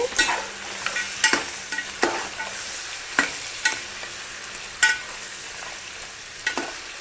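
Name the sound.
stirring tomatoes cooking in a pan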